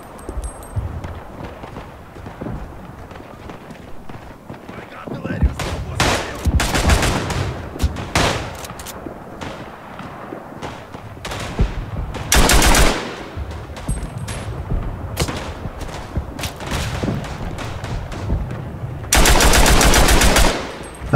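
Machine gun fire from a WWI-era MG in the shooter game Tannenberg, with sustained bursts of rapid automatic shots, several loud close volleys rising over a constant battlefield din of more distant gunfire.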